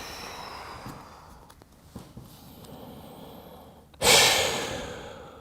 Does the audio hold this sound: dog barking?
no